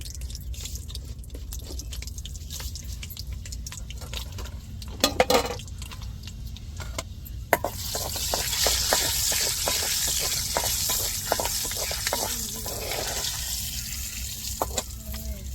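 Fenugreek seeds tempered in hot oil for a dried fish curry, a steady close sizzle and crackle with scattered pops and light clinks of a spoon, growing denser and brighter toward the end.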